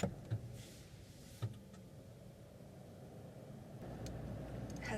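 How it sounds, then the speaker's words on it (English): A car starting up during a mock driving test, with a few clicks and a thump at first, then a low engine hum rising slightly near the end, heard from inside the cabin without talk. "So I'm going to start the car."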